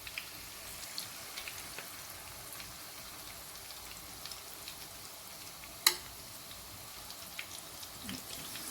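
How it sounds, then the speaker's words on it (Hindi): Chicken pieces dropped one by one into hot oil for Korean sweet and sour chicken, giving a quiet, steady frying crackle with small pops and one sharp clink partway through. "अब हम इसे एक एक उठाकर जो है वो चिकन को फ्राई कर लेते हैं।"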